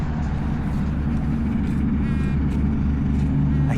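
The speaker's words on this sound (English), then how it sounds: "I can't really hear with the trucks." Trucks pass by in a park, producing a continuous heavy low rumble of engines and road noise that swells slightly toward the end, loud and fairly close, with no talking.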